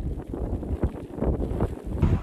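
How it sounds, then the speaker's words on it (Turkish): Strong gusts from storm Arwen, with winds over 100 km/h, roar and buffet the microphone in a steady, rumbling low wash. "Rüzgarın hızı saatte 100 kilometreyi geçti"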